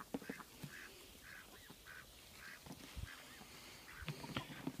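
Ducks quack in a backyard flock alongside chickens, a run of short nasal honking calls repeated at a steady pace at moderate distance.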